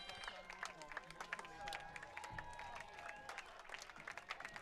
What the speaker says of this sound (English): Crowd clapping their hands, getting loud here at Veterans Field